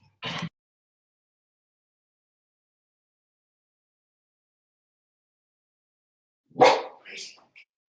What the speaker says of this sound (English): We got my dog's attention now.